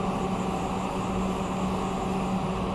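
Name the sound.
Haas CNC lathe spindle running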